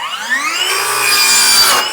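A power saw cuts through wood pieces for a homemade slingshot frame, the whine rising in pitch as the blade spins up and bites in, loud and close with no talking.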